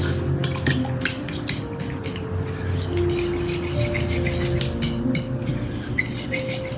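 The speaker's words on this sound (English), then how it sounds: "3 tablespoons of yogurt, natural yogurt. I'm going to now whisk it up." A spoon or whisk beats natural yogurt in a bowl with rapid, irregular metallic clinks and scrapes, close and continuous throughout, with no voices.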